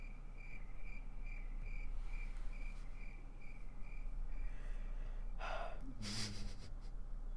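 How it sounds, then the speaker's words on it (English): Crickets chirp in a steady repeating pulse through a podcast bumper, clear and even over a low hum, ending with a few brief breathy bursts and a short sweep of noise near the end. "I do love those crickets"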